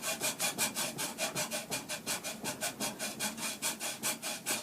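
Sandpaper wrapped on a dowel rubs back and forth over a wooden walking stick, a brisk, even rasping of quick strokes repeating about four times a second, close and alone.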